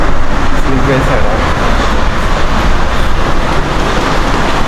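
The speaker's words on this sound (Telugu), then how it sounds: "ట్రైన్ అయితే వచ్చేసింది" A Paris metro train pulls into the station with a loud, steady rumbling roar that fills the whole stretch, heard up close with no clear breaks.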